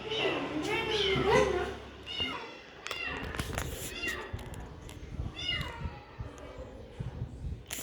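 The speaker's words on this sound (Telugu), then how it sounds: "చూడండి గైస్ పిల్లి అయితే కార్ లోపలికి పోయిందో తెలియదు" A cat meows repeatedly near a car, its calls rising and falling close by, while people talk over much of it.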